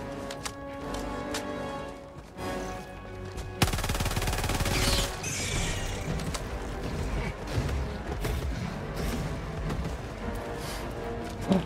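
Sustained automatic gunfire from shooting bugs in Helldivers 2, a dense, loud rattle of rapid shots over constant game noise, growing heavier and harsher midway through, with no talking.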